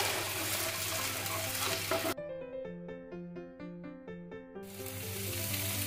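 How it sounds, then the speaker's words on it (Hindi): Spice paste for samosa filling fries in a pan with a steady close sizzle, cut off midway by a short melodic music interlude before the sizzling returns. "वो इसे अच्छे से एक मिनट तक तो बस फ्राई करेंगे पहले"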